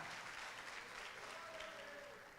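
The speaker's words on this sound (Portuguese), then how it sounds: "Pode aplaudir, se é para Jesus, pode aplaudir." A church congregation applauds during a sermon, producing a continuous, even roar of many hands clapping at a steady level that fades slightly toward the end.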